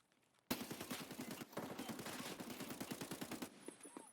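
Rapid automatic gunfire in the shooter Escape From Tarkov, a sudden loud burst of closely spaced shots lasting about three seconds, then a few scattered quieter shots and a brief pause.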